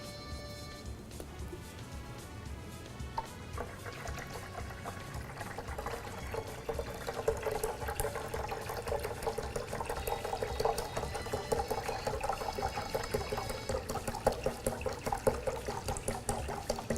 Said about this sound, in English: we're going to add our Sprite